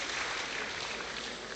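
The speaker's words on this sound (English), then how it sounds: "Let's give him a round of applause" An audience claps steadily for a man being welcomed as a nurse at a university academic gathering, with dense, even applause filling the whole moment and no voices over it.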